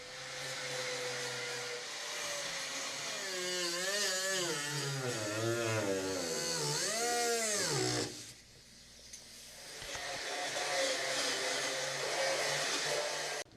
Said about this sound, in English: let me first grab the grinder